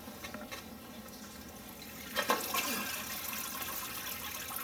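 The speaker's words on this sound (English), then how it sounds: "Slowly raise the drawers up to drain the water." Steady rushing and trickling water draining from filter drawers in an aquarium sump, continuous throughout with a louder surge partway in.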